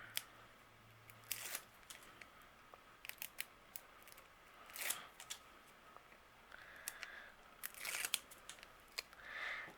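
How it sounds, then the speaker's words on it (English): Release paper being peeled off foam tape stuck to the back of a craft panel, heard as soft crackly tearing bursts and short rustles, close and fairly quiet, scattered through a near-silent room. "Now we're going to remove the release paper."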